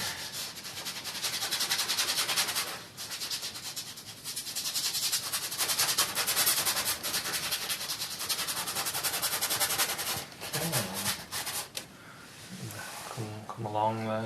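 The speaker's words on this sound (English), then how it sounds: "You can scrub paint on the canvas with a brush, it's alright." Brush scrubbing oil paint onto a canvas for a wooded-edge landscape, a steady close rasping rub running throughout with brief breaks, with a voice speaking briefly near the end.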